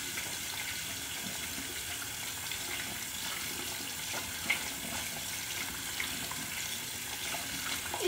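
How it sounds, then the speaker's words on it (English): Hands rinsed under a running tap, giving a steady, even hiss of water with faint splashes throughout. "let me wash my hands off"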